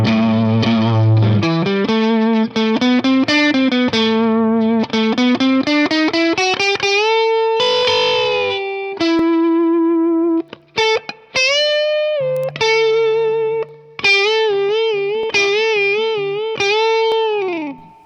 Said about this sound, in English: I'm going to do it without the wah-wah. I'm just going to show you the part right here.